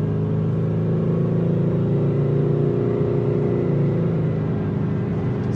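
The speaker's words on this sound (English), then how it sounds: "So let's accelerate here." A Subaru with a CVT transmission accelerates steadily, giving a smooth, continuous mid-pitched engine drone and whir heard from inside the car with no talk, holding constant in level throughout.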